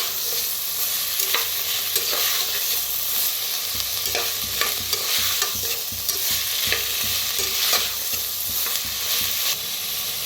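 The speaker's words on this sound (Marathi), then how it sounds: "सगळं मिक्स करून भाजूया।" Peas, chickpeas, carrots and spices for Sankranti masala rice are stirred and fried in a pan, a steady close sizzle broken by regular scraping strokes of the spoon, with no talk.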